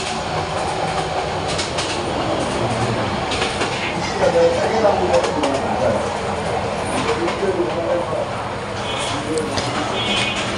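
A Bangladesh Railway intercity express from Dhaka to Cox's Bazar, a new Chinese-built meter-gauge rake, runs with a steady, loud rolling rumble and wheel clatter throughout, with voices faintly in the background.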